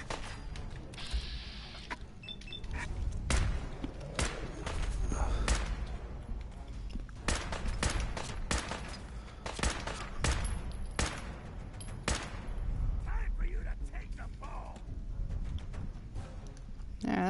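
Gunfire in the video game Fallout 4: repeated bursts of shots and rapid fusillades crackle throughout, fairly loud and dense, with occasional footsteps and mechanical clatter between volleys.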